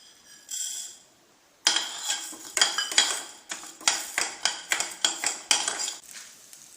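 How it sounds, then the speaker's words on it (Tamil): Chana dal and urad dal roasting in a little oil in a pan, with a spoon scraping and clinking against the metal in a steady run of close strokes after a brief quiet start. "முதல்ல சட்டியில் லேசாக எண்ணெய் சேர்த்துட்டு நம்ம வச்சிருக்கிற கடலைப்பருப்பையும் உளுத்தம் பருப்பையும் வறுத்து எடுத்துக்கலாம்."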